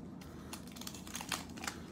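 Topps Chrome cello baseball card packs torn open by hand, a steady run of close, dry crinkling and tearing foil wrapper with small crisp bursts throughout.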